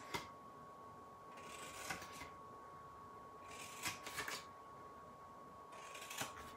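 A blade cuts along the score lines of a cardboard box for a mini book box, making three faint, short scraping strokes spaced a couple of seconds apart against a quiet background with a steady faint tone.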